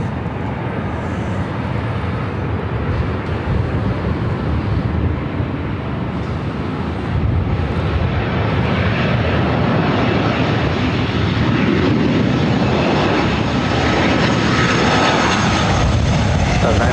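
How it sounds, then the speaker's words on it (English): A Southwest Boeing 737-700 arriving at Los Angeles LAX produces a loud, continuous broadband jet roar for the whole stretch, thickening slightly about halfway through, with no voices over it. "got that Southwest 737-700 next arrival."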